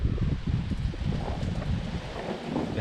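Steady wind roars across an exposed hilltop campsite where a small tent is pitched beside boulders with guy ropes tied to rocks, blowing loud and continuous with gusty low rumble and no voices.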